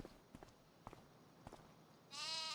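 Sheep in a farming video game give a short bleat near the end, preceded by soft footstep-like taps against a quiet background.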